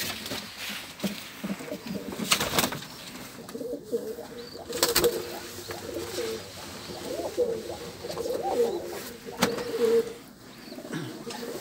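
Pigeons of the Drakon and Baku breeds coo in soft, repeated low warbling calls, with occasional sharp wing clatters and knocks nearby, all against faint background noise.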